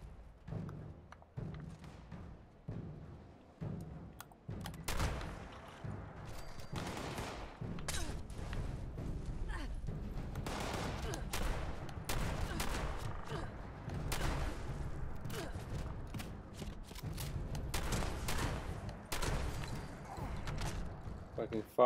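Repeated shotgun blasts in Fallout 76, a burst of sharp impacts against a constant low rumble of game noise, with someone talking over the gunfire.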